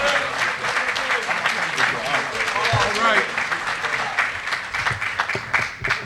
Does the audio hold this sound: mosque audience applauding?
yes